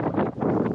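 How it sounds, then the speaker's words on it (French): Strong gusty wind in the Norwegian mountains buffets the microphone, a loud broadband roar swelling and dipping in rapid gusts, close and continuous with no talk. "Il y a vraiment un max de vent."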